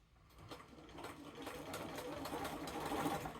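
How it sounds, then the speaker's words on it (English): A sewing machine runs steadily, stitching binding onto a quilt with a rapid, even mechanical chatter that grows slightly louder toward the end, heard fairly quietly and close by. "Do a back stitch, stitch it together right on that diagonal line that you pressed in."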